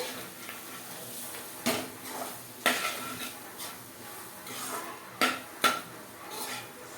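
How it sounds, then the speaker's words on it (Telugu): Dal mixture for pani puri being stirred in a metal pot, soft scraping broken by several sharp clinks of a spoon against the vessel, close with no talk. "పప్పు వేసేసుకుని కలుపుకోవాలండి పప్పుని."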